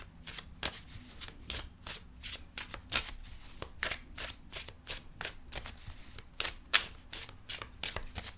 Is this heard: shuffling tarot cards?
yes